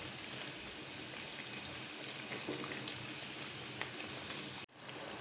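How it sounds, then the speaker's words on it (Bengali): Puffed rice cutlets fry in oil over low heat, giving a steady, soft bubbling sizzle that runs evenly before cutting off abruptly near the end. "অল্প আঁচে বাদামি কালার করে ভেজে নিতে হবে।"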